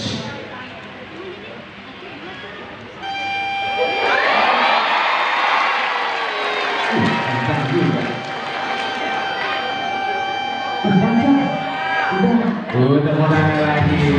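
A trained sea lion at an Ancol show in Jakarta blows a trumpet, producing a sustained tonal horn-like blast that holds for several seconds amid a lively crowd, with a presenter's voice and cheering audience around it.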